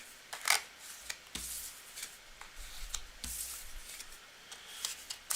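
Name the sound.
shuffling tarot cards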